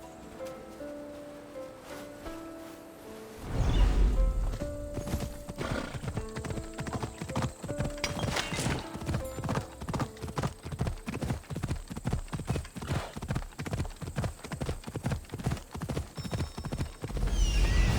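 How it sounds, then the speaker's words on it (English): Horse hooves clip-clop steadily at a walking pace through a forest scene in Assassin's Creed Odyssey, with a whinny near the end; the hoofbeats are close and fairly loud after a quiet opening. "Looks like a sturdy horse."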